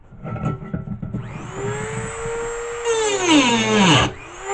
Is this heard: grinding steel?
yes